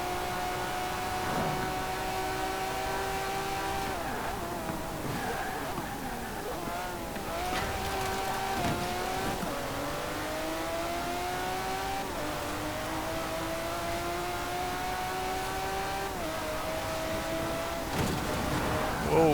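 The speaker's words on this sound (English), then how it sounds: "Cannot beat a high revving V12 naturally aspirated engine." Lamborghini Murcielago naturally aspirated V12 racing in Forza Horizon 4, revving high and climbing through repeated gear changes, a continuous loud wail with brief dips between shifts.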